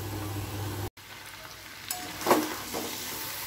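Meat with salt and turmeric being stirred in a pan, a faint sizzle after a brief cut, with a couple of soft utensil knocks and scrapes, no talk.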